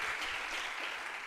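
A conference audience in the Veneto region of Italy applauds speakers at the presentation of a regional statistical report. The clapping is dense and steady, like a crowd heard from within the hall, and it lasts only a moment.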